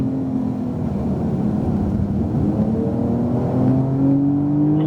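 A Porsche 911 Turbo S on a race track drones under throttle, its steady engine tone rising gradually in pitch as it accelerates, heard from close by with no talking.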